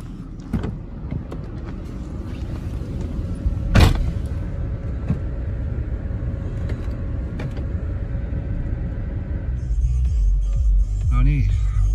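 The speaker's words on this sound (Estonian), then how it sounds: "Hüppan autosse ja läheb sõiduks." A car driving off from a country home in winter: engine rumble and thumps at the start, a brief louder knock, then a steady road drone that builds toward the end, with a voice speaking over it.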